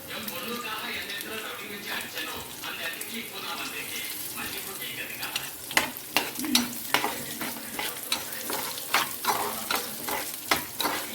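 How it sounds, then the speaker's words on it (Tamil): Onions are sautéed in a pan for ragi idli and garlic chutney, a soft sizzle at first, then repeated sharp spatula scrapes and stirs in a loose rhythm, close and fairly clear. "இது கூடவே வெங்காயத்தையும் போட்டு வதக்கிக்கணும்"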